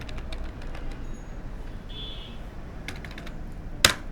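Light, scattered keystrokes tap on a computer keyboard during a design class, quiet clicks over a faint room hiss with one sharper key press near the end.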